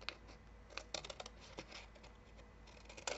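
Scissors cutting stiff cardstock for a Christmas scrapbook pocket card, a quiet series of crisp snips and paper rustles in an irregular rhythm, close by.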